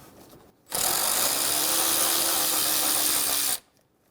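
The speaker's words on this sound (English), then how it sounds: "Using a 10mm socket, we're going to remove the 2 bolts for the radiator fan shroud." A power tool with a 10mm socket spins out a radiator fan shroud bolt on a 2005-2015 Toyota Tacoma 2.7L, a loud steady whir lasting about three seconds that starts and stops abruptly.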